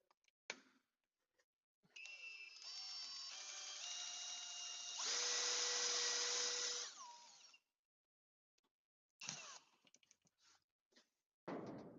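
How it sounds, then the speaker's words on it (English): A power drill drives a DW2 drill-winch to lift a load, whirring steadily for several seconds and then rising in pitch under strain before it stops, followed by scattered clicks and short clunks of the rig. "drill to lift."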